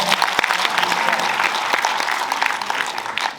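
A theatre audience at a cinema festival opening in Marseille claps together in a steady, dense burst of applause lasting a few seconds, with no talk over it.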